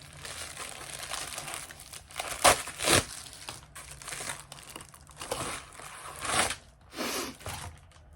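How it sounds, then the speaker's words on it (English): Package being opened by hand, plastic wrapping crinkling and tearing in a continuous rustle with a few louder crunchy bursts, close and alone without speech. "I got a package, so I wanted to open that for you"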